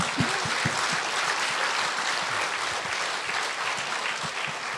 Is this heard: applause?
yes